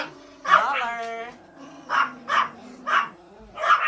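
Dogs quarrel in a playful scuffle near a new playpen, with sharp barks and whimpering yips bursting out in four or five quick clusters over a few seconds, close by and fairly loud, while a person talks throughout.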